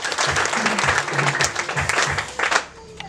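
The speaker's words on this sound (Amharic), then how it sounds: "ዋው አጨብጭቡ ለጌታ ክብር።" A church congregation claps and cheers at a healing service, a dense burst of applause with excited voices mixed in, sustained for a few seconds before tapering off.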